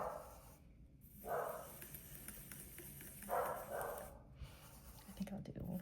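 A pet dog barks in a house, with two short muffled bursts of barking a couple of seconds apart, distant and faint beneath a person talking.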